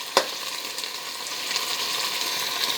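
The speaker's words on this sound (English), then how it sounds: "It's just browning off very nicely." Chicken sizzles and browns in a pot for brown stew, a steady crackling fry with a sharp pop near the start, heard alone and close.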